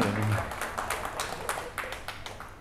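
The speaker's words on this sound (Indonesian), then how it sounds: "tepuk tangan buat Pak Juanda" An audience at a public oration claps for a speaker. The claps are scattered and fairly faint, thinning out over a couple of seconds, with a brief low murmur at the start.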